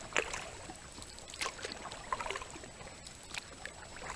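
Kayak paddle strokes dip and splash lightly on Shoal Creek, a steady series of soft, close watery swishes and drips repeating every second or so with no voices.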